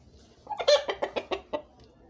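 An Aseel rooster clucks close by in a quick run of about six short, sharp clucks that come in an even rhythm and then stop, with a quiet background.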